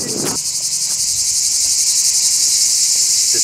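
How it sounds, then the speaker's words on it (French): Cicadas singing on the island of Naxos, a loud continuous high-pitched buzzing drone with a faint pulsing texture, close and unbroken, with a brief lower rustle at the start. "On cherche les cigales."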